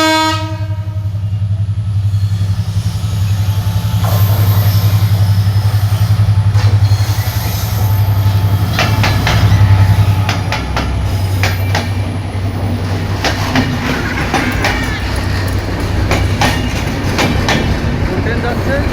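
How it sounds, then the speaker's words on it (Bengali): The Madhumati passenger train rolls past a railway crossing at Madanpur Gate, its loud horn blaring at first, then a heavy rumble with rhythmic clickety-clack of wheels passing close by, while people talk nearby. "ট্রেন যাচ্ছে।"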